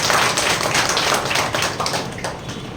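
Dense, steady clapping from a crowd at a Tamil public meeting, loud and close throughout, with no voices standing out.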